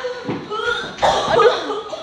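A few harsh coughs burst out close to the mic, mixed with some throaty vocal sounds.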